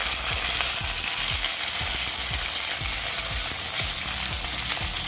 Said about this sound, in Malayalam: ഇനി കറിവേപ്പില ചേർത്ത് കൊടുക്കാം സവാള ചേർത്ത് കൊടുക്കാം